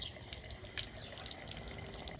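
Water runs from an opened tap as something is washed beneath it, a steady rushing stream with faint splashes and drips, fairly quiet and with no talking.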